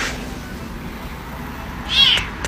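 A cat gives a single loud, close meow near the end, heard over a faint background hum.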